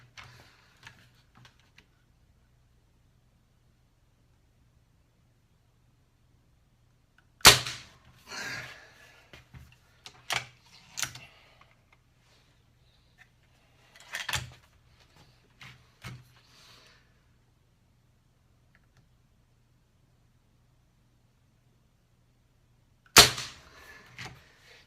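A Benjamin Trail NP XL .25 caliber break-barrel air rifle firing JSB Exact 25.4-grain pellets: two sharp, close cracks far apart, with quieter clicks and handling noise between them in an otherwise quiet setting.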